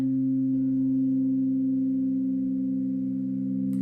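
Crystal singing bowls ring in a steady, sustained tone with layered pure harmonics that hold evenly throughout, clear and uninterrupted.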